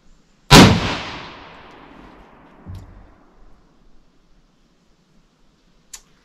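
A single loud Mosin-Nagant M44 rifle shot cracks sharply and echoes away, followed by a faint thud and a tiny click later, with no voices.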